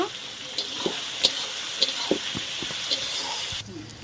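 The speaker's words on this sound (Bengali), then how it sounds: "কুচানো পেঁয়াজ এখন ভেজে নেব" Chopped onions frying in a pan of oil for a home-style mutton curry, a steady close sizzle with a few soft scraping stirs scattered through, then the sizzle suddenly drops quieter near the end; no one talks.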